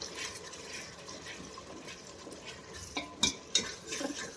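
A spoon stirs a pot of kadhi with tomato ketchup and peas, giving a soft, faint, wet swirling with a couple of sharper clinks near the end, close and without speech.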